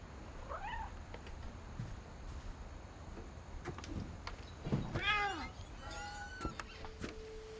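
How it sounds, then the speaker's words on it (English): A cat meows in the video game What Remains of Edith Finch, with a faint early mew and then several clearer, rising meows over a quiet ambient background. "Did you just hear a cat?"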